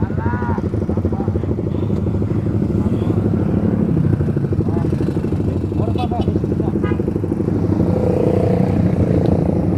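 A Suzuki GSX motorcycle fitted with a Pro Liner Short aftermarket exhaust runs steadily throughout, a loud, continuous low engine drone at close range with no pauses.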